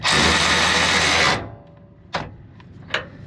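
A power tool whirs loudly for over a second, tightening a bolt during a Timbren suspension install on a trailer, then cuts off, followed by a few sharp metallic clanks and taps.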